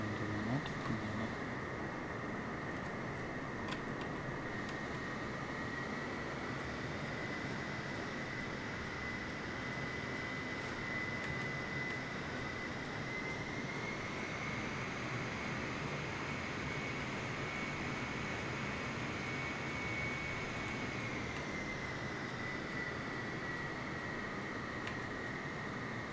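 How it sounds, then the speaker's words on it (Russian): Airliner taking off in Microsoft Flight Simulator 2020 on a flight from Pulkovo, St. Petersburg: a steady, low jet engine roar that holds for the whole stretch, with a slight rise in pitch partway through. "Мы, конечно, подождем, пока этот самолет взлетит."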